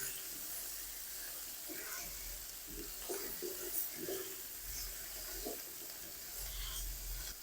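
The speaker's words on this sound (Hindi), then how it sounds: "और 1 मिनट तक हम इन सारी चीज़ों को फिर से फ्राई कर लेंगे।" Potatoes, capsicum and spices frying in a pan for a dhaba-style aloo bhuna masala, a steady soft sizzle with occasional stirring clatter throughout.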